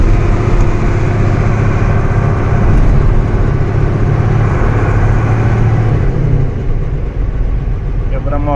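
Mercedes-Benz MB 1113 truck engine accelerating on a road in traffic, a loud continuous close-up diesel drone that holds steady throughout with someone talking over it.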